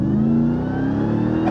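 Engine of a 2021 Ram TRX truck revving, a loud, close, deep roar held steady for about a second and a half, with no talk.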